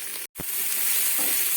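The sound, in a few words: tomatoes and vegetables frying on low-medium gas flame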